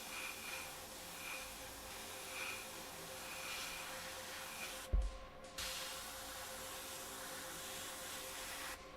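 A gravity-fed airbrush sprays clear coat onto a scale model: a soft, steady hiss runs throughout, broken midway by a brief thump and a short pause before the spray resumes, quiet and close.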